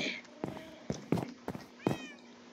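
A cat in a video game meows repeatedly near furnaces, with about five short, sharp mews spaced roughly evenly over a quiet background and no talk.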